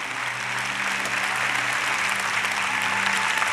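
A church congregation claps continuously, a dense, sustained wash of applause with a low hum underneath and faint voices.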